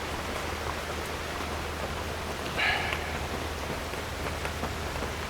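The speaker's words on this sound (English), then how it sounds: "And I thought I'd take advantage of the rain on the roof." Rain falls on a roof in a steady, even hiss of dense patter that holds at a moderate level throughout, with one brief faint tap partway through and no voices.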